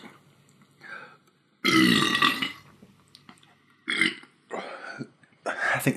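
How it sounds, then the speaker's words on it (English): A long, loud, rumbling burp rolls out after a few quieter ones, followed by more short burps and gurgles; no talking. "Got a burp."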